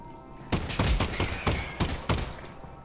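Gunfire in the VR game Half-Life: Alyx: a burst of about six loud, close shots in a quick uneven rhythm, each with a short echoing tail and no talk over it.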